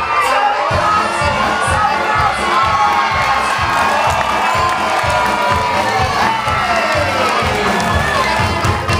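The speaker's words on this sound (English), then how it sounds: "Cheer them on, cheer them on, cheer them on." Children shout and cheer loudly and continuously during a race, a dense crowd roar with excited voices throughout, close and lively.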